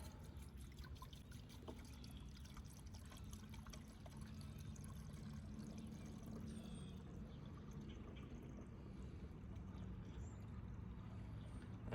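Water trickles and pours steadily into a cheap water pump being primed, a continuous low gurgling flow at close range with no voices.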